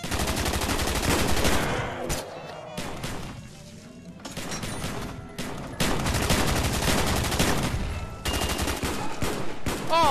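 Gunfire in a VR zombie shooter game, dense loud bursts of automatic fire and rapid shots with brief pauses between volleys, close and sustained.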